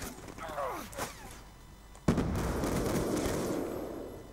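In Black Ops 2 gameplay, a sniper rifle lands a headshot with a single loud, sharp blast, and a rumbling tail trails off after it.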